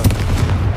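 Confringo fire spell cast in Hogwarts Legacy bursts as a short, loud blast with a low booming thud, heard alone.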